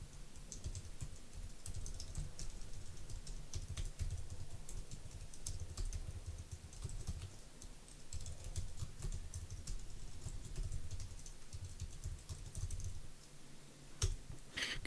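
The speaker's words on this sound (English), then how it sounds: "I'm just typing in all the ones that are on the right hand side there" Steady, rapid typing on a computer keyboard, the keys clattering continuously and close by for a long stretch, with a few louder keystrokes near the end and no voices.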